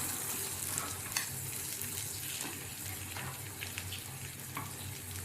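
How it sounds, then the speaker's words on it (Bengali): Spice masala frying in a pan for a rohu fish curry, giving a steady, moderately loud sizzle with light stirring scrapes throughout, alone without talk. "মশলা আমার ভাজা ভাজা হয়ে গেছে।"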